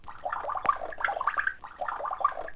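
A parrot mimics a drink being poured, a faint, close, bubbling gurgle in three uneven bursts.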